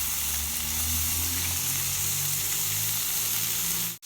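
Onion, capsicum, green chilli and garlic frying in hot oil with a constant, loud, close sizzle that cuts off abruptly at the end, with no talking.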